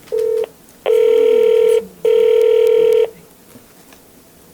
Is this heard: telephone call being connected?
yes